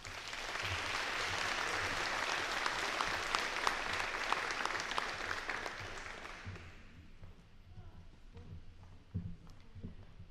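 An indoor audience at a nursing pinning ceremony claps in sustained applause that fades out after several seconds, leaving room murmur and a few scattered sounds.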